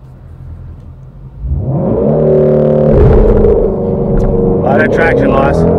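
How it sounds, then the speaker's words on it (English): A 2018 Ford Shelby GT350 launches from a standstill with a semi-quick clutch release. After a quiet idle, the engine surges into a loud, rising roar as the car accelerates hard. A voice speaks briefly over the engine. "to do my first launch on this car"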